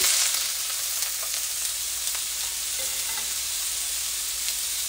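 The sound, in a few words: bamboo shoots sizzling in oil for chop suey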